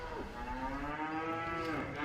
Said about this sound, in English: There are 450 cows at this farm in Yunlin.